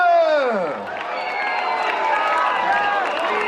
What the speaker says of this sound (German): Einen donnernden großen Applaus für eure Buren